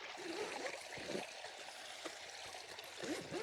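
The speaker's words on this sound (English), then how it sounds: "I wanna record the sound of the waterfall" A waterfall on a river, at a hiking spot along a partly dried-out riverbed, gives a steady, close rush of flowing water with light gurgles and splashes, and no voices.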